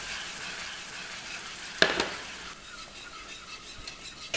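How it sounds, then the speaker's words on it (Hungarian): Hot milk stirred into a light butter roux for béchamel sauce in a pan on the stove, a quiet bubbling sizzle with soft scraping and one sharp clink partway through. "Állandó keverés mellett, és simára keverem."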